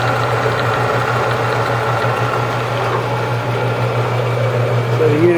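Jet 414500 14-inch seven-speed band saw running without a blade, its motor giving a steady hum with a strong low drone and mechanical whir, the gearbox in need of gear oil; no voices.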